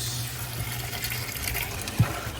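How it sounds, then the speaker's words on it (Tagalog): Water gushes steadily out of a concrete pond filter, a continuous splashing rush with a low pump hum underneath and a brief knock near the end. "May ilalabas na tubig dito."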